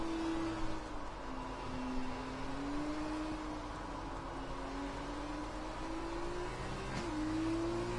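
An F2 race car engine in the F1 2020 video game on the Baku circuit, a high whining engine tone that holds steady, dips and climbs again as the car accelerates, heard faintly and continuously with no talk.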